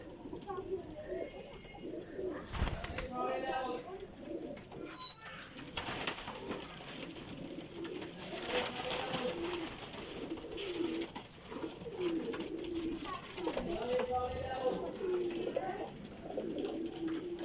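Golden flying pigeons coo in soft, repeated throaty calls close by, with a few wing flutters, heard beneath people talking.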